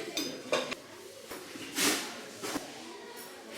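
Ceramic dishes clink and knock together as they are handled on a shop shelf, several light irregular clatters close by with one brighter clash in the middle.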